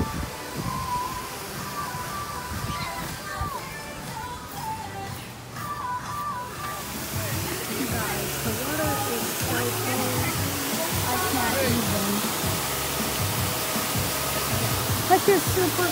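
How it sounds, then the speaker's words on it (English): Water rushing from a pool waterfall at a Kissimmee, Florida resort, a constant broad hiss that swells louder partway through, with faint tonal sounds mixed underneath. "See, look at the waterfall."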